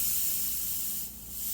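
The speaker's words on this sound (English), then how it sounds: "I can always spray a darker mixture over this mixture that I started." An airbrush sprays paint onto a Mustang hood with the air pressure turned down, giving a steady, close, breathy hiss that dips briefly before resuming.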